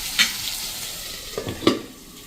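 Bitter gourd (karela) curry cooking in a pan over a low-to-medium flame, a soft sizzle with a few scraping stirs and clinks, with no talking.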